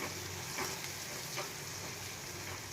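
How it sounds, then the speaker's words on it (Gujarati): Onions and green chili softening in oil over a low gas flame for a Gujarati eggplant dish. A soft, steady, faint sizzle with a couple of light stirring touches and no voices. "અને એકદમ સરસ આપણે બેથી ત્રણ મિનિટ માટે સાતળવા દેશું ગેસ આપણે એકદમ ધીમો રાખશું"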